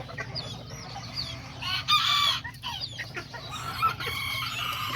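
A backyard flock of chickens clucks and squawks in overlapping bursts while a rooster crows, moderately close, with a steady low hum beneath the birds.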